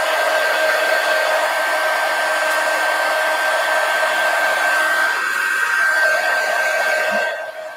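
A hair dryer blows on an art journal page, a loud steady whirring hiss with a constant whine, running close for several seconds before switching off at the end.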